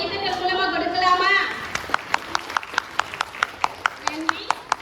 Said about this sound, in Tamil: நம்மளுடைய உற்சாகத்தை ஒரு சிறந்த கைத்தட்டல் மூலமா கொடுக்கலாமா?